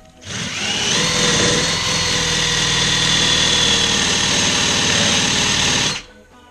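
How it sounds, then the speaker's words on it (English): A drill fitted with a wire wheel brush scratches metal next to a bolt on a truck, a steady, loud whirring grind lasting about five seconds that starts and stops abruptly, close by with no talking. "Now, you want to take your drill with a wire wheel brush on it"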